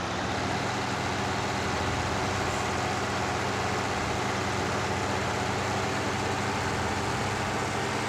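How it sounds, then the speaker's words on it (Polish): Tractor engine in the Farming Simulator 19 video game runs steadily at speed, a loud, continuous droning rumble with no break and no talk over it. "Widzicie, jak ten ciągnik potrafi, jak on zasuwa, to jest najszybszy tutaj ze wszystkich ciągników"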